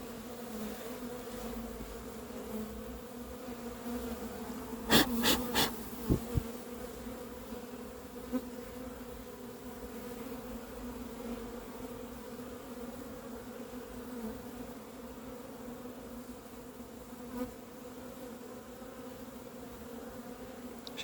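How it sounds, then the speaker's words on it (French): A honeybee swarm buzzes in grass, a steady droning hum from many bees throughout, with a few brief sharp clicks near the start; moderately close, no voices. "Faut que je fasse voler un petit peu les abeilles dans l'herbe"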